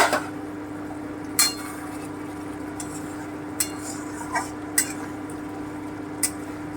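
A pot lid comes off and a pointed gourd posto curry is stirred, with a steady low cooking hum under a handful of scattered metallic clinks and scrapes from the lid and spoon, close by and without talking.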